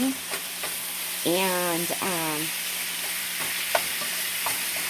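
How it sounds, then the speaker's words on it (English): Taco pie filling frying in a pan gives a steady, broadband sizzle with occasional small clicks and stirring taps, while a voice briefly speaks over it partway through. "So we are going to fry this up."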